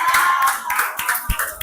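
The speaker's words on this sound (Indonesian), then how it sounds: "Tepuk tangan." A school class claps after a group presentation, giving a short burst of dense, fairly close applause that fades quickly.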